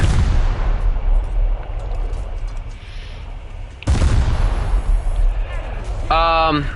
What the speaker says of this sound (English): Continuous rapid fire